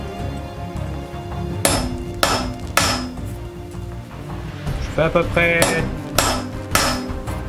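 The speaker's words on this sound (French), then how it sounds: "3 frappes avec un marteau de 2 kg." A 2 kg hammer strikes rivets on riveted chain mail rings, about seven loud sharp metallic blows spaced irregularly, with someone talking between and under them.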